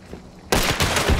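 Gunfire in a Bornheim multiplayer match, a quiet lull broken halfway through by a sudden loud burst of shots that continues as dense, sustained firing to the end.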